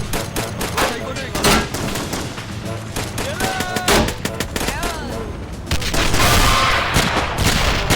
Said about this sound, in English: Machine gun of the rebels are firing